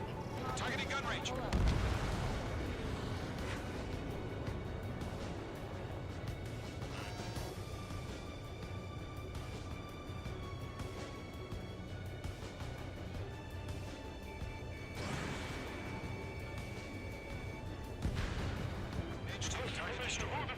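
Fighter jet gunfire in Ace Combat 7, a continuous dense rumble of cannon fire and explosions under a steady engine roar, with radio chatter and spoken voices layered throughout.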